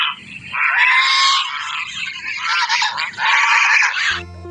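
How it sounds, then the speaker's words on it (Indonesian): A giant duck in a Jurassic World Evolution 2 style game gives loud, raspy honking calls in three long bursts, close and dominant, ending with a brief low thump. "Ada bebek raksasa."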